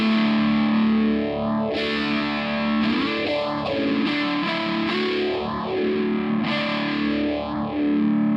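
Heavily distorted electric guitar through a Donner Triple Threat pedal sustaining loud chords, with a sweeping modulation effect that rises and falls in repeated whooshing waves.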